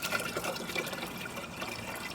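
Compost tea being poured into a watering can already half full of water, a steady close liquid pour and splash running throughout with no talk.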